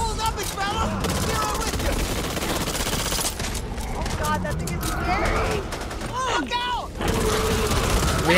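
Gunfire from a group of players shooting at the Ogre, a huge monster in Back 4 Blood, loud and continuous with bursts and clatter over dense game noise, while voices talk over it.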